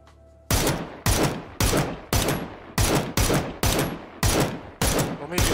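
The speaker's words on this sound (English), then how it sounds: "Stop shooting at me." Gunfire in PUBG on Xbox: ten loud, close bursts spaced about half a second apart, each with a sharp attack and a short decaying tail.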